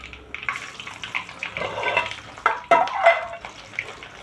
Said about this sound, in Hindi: देखो खौल गया पूरा